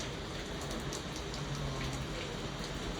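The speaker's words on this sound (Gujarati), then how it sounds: "ફૂલે ફૂલ વરસાદ આવે છે" Heavy rain pours steadily outside a village home, a dense, continuous hiss of drops on surfaces at even loudness throughout, with no voices.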